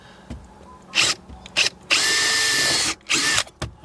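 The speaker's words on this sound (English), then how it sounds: "I'm gonna drill the bottom 2 holes a little bit more." Power drill boring holes for a Strutking pedal install in an Acura RSX Type S, several close, loud bursts of whining drilling, one long sustained run in the middle, with short pauses between.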